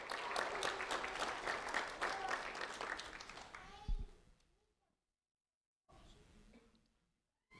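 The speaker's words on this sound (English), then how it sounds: "A round of applause for Damarias Pascual Jesus" A room at a school-award ceremony for a fifth-grade student claps briskly for about four seconds, then tapers off into silence. A voice begins speaking after a pause.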